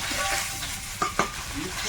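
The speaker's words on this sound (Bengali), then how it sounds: "সব মাছগুলো এতক্ষণে ভাজা হলো এবার উঠিয়ে নেব" Steady, loud sizzling of fish frying in hot oil, with a couple of sharp clicks from a utensil partway through.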